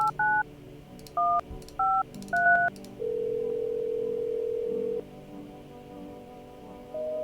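Telephone keypad tones from a video game, a run of short paired DTMF beeps in an irregular rhythm followed by a steady sustained tone, clear and alone with no talking.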